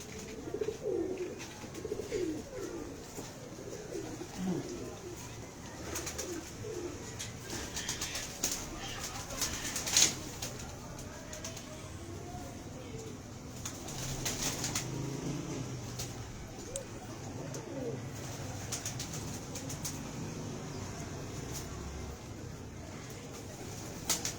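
Pet pigeons kept by a pigeon fancier coo softly at close range, low rolling calls recurring through a quiet loft-like space with occasional wing flutters and faint background voices.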